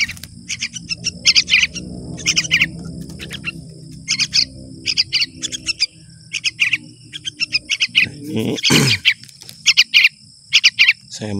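Yellow-vented bulbul chicks chirp in rapid, high bursts over a steady insect-like background buzz while being hand-fed, with a short spoken remark and a brief louder rustle partway through.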